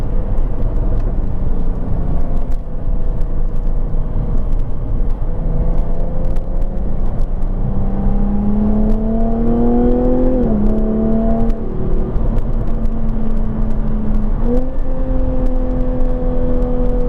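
A Jaguar F-Type sports car driving on a road, its engine droning steadily with rising and falling revs through gear changes, heard from inside over constant road and wind noise.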